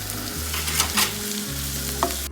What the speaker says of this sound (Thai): นี่จะใช้หอมแดงแล้วก็ เอามา เจียวก่อนเนาะให้มันหอม